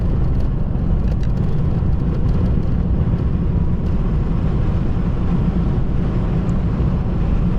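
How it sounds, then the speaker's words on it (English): Steady roaring wind buffets the microphone, a dense low rumble that never lets up, loud and close, with no talking. "Bloody windy."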